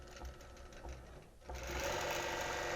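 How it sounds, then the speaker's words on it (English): A computerized quilting machine stitching a border, its steady mechanical hum quieter at first, then a short pause before it picks up louder and faster in a continuous whirring run. "so I'm going to go ahead and hit start quilting"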